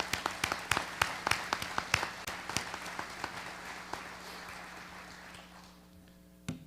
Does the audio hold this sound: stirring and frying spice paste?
no